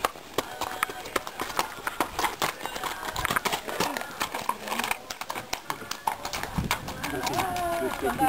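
Horse hooves clopping during a riding lesson in Gualmatán, a steady uneven patter of steps mixed with outdoor noise while people talk and call out nearby.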